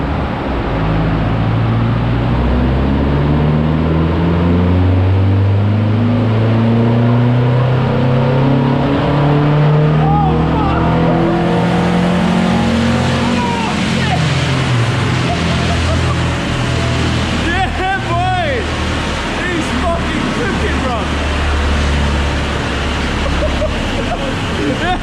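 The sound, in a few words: VW Lupo car driving and accelerating with modified airbox intake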